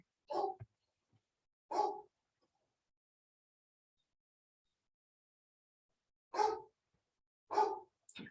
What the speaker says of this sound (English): my dog decides that now is the time for her to bark and be unhappy